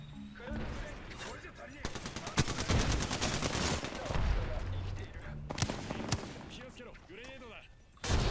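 Gunfire in an Apex Legends match: dense, rapid bursts of shots, loud and close, with someone talking in between.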